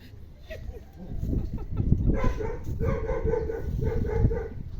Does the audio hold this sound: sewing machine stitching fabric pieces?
no